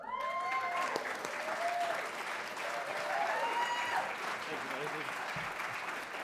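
Loud, steady applause from an audience at Texas Faith & Family Day greets State Representative Brian Harrison as he takes the stage, dense clapping and crowd noise filling the whole stretch with faint voices underneath.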